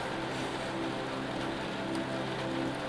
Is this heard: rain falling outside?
yes